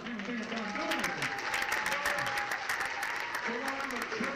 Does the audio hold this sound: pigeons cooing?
no